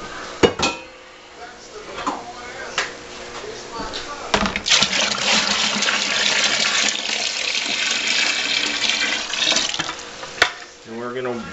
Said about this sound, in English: And then we're going to add some cold water.